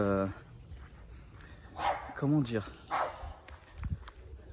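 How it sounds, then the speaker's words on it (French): A pack of dogs barks in the distance outdoors, a few scattered yaps and barks mixed with footsteps while a person talks over them. "je vais surveiller parce qu'il y a une meute de chiens"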